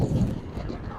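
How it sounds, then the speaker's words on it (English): Gusty wind on a windy day buffets the microphone with a steady low rumble, loud and close, with no talking. "We're having a really windy day today."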